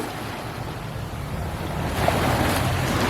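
Waves washing onto sandy Biloxi Beach on the Gulf of Mexico on a mild March day, a steady broad surf roar that swells slightly louder toward the end, mixed with wind noise on the microphone and no talking.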